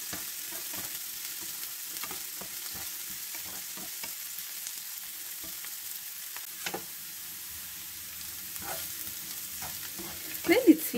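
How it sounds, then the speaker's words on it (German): Onions and vegetables fry in a pan for a quick rice and chicken-breast dish, a soft steady sizzle punctuated by intermittent stirring scrapes and utensil knocks, with a louder clatter near the end. "Dazwischen rühre ich immer wieder mal ein bisschen um, so, damit es nicht zu dunkel wird von unten"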